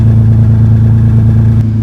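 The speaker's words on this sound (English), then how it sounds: "The truck does sound a little bit louder than most." A 1998 Toyota Tacoma engine idling with a rusted-through muffler in a closed garage, giving a loud, steady, deep exhaust drone with an even low throb that dips slightly near the end.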